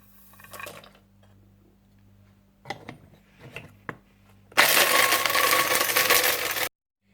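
Electric coffee grinder whirring loudly for about two seconds as it grinds black pepper, nutmeg, mace, green cardamom, poppy seeds and almonds, preceded by a few clinks and taps of handling, then stopping abruptly.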